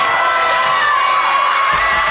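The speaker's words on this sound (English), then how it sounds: "Highlands fans alive." Highlands basketball fans cheer during a game against Pine Richland, a loud, steady wall of crowd noise with shouting and whoops that holds at full strength for a couple of seconds without a break.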